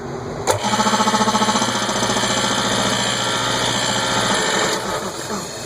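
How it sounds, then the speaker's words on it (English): An old air compressor in an organ shop runs steadily with a fast, even mechanical chugging after a brief start click, loud and close, then winds down near the end. "Air compressor is probably as old as that light is"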